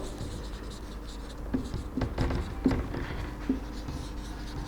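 Pens or pencils scratch on paper as class 4 students write down homework in a quiet classroom, a soft continuous scribbling with a few faint taps and knocks.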